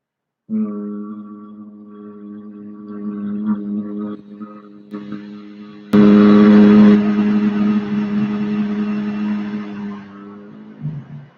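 A person hums a steady, buzzing tone on a long exhale, imitating a bee; the drone swells louder midway, then fades out.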